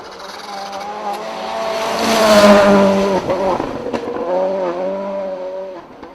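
Rally car at the Scottish Rally Championship speeding past, engine rising to a loud peak and falling away as it goes by, with spectators talking over it.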